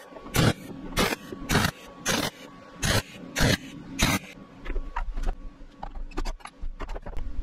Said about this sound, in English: flip it over and just weld the other side